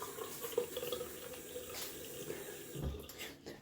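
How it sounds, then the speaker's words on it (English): Cold water running from a tap during a wet shave, then splashed onto the face: a steady, faint hiss of flowing water ending in a low splash. "I'll add some cold water to the face."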